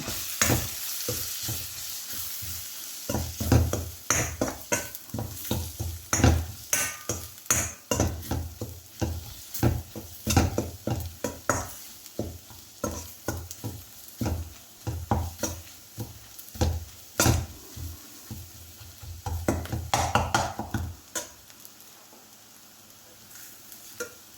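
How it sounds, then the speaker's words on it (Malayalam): Spices and a curry paste mixture with ground pepper, sautéed in a pan for a Kerala-style fish curry, sizzling steadily while a spoon scrapes and stirs in a busy rhythm of clicks and clatter, close up with no talking. "എല്ലാം കൂടി നമുക്കൊന്ന് വഴറ്റി കൊടുക്കാം"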